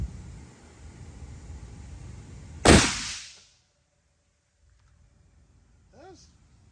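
A single sharp, loud rifle shot from an RN50 chambered in 6.5x55 Swedish cracks out of a quiet outdoor background, followed by a brief fading echo and near silence.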